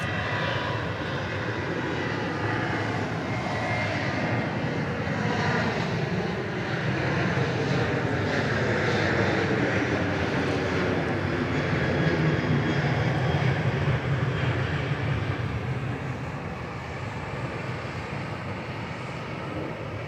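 A passenger airplane departs Dallas Love Field bound for LaGuardia Airport in New York, its steady jet engine roar filling the whole stretch, loud and sustained with a slow swell in the middle.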